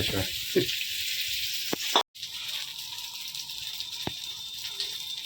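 Fish fries in a pan with a continuous hissing sizzle, occasional light knocks and clicks, and a brief cut in the sound partway through; a person speaks quietly under the frying.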